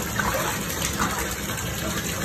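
Water gushes steadily and fairly loudly into a bathtub during a baby's first bath, a continuous broadband rush with no talk over it.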